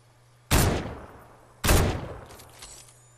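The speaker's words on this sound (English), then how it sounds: "Somebody else is shooting at him from the ground." Gunfire in the Fortnite video game: two sharp, loud shots about a second apart, each with a short decaying tail, followed by a faint distant crackle of further shots, with no talking.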